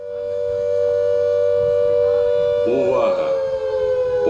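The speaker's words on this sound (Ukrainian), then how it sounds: "Під час лекції розпочинається повітряна тривога," An air raid siren wails steadily at close range as an air alert sounds during a lecture, its tone rising and swelling, while a voice calls out over it.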